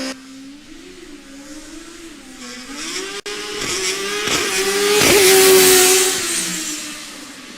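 Formula Student race car launching at an acceleration event on low-sidewall tyres, its engine note climbing steadily and loudly with brief gear-shift breaks before building to a harsh peak; no voices.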